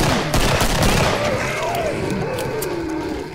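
Rapid gunfire from the zombie-survival shooter game Killing Floor, a dense loud burst of shots at the start trailing into rumbling echoes and lingering roar, with no speech.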